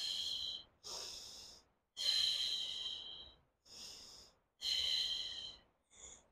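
Forceful breathy exhalations during a postnatal ab workout, about five long hissing breaths separated by short pauses, close and clear with no talk.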